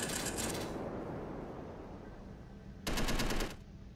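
Turrets firing in the space combat game Space Engineers, rapid machine-gun bursts, one burst at the start and another near the end, over a low rumbling background.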